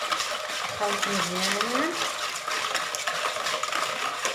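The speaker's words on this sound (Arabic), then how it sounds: "دابا غنخلط" Lemon cake batter being stirred by hand in a bowl, a steady scraping swish running throughout with a brief voice and faint clinks of a utensil against the bowl.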